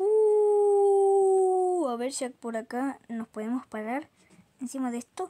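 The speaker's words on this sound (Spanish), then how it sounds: "ese es mi perro, ese es mi perro, es mi perro." A dog in a video game lets out a long, steady, high howl that holds for about two seconds, then a person starts talking in Spanish in short bursts.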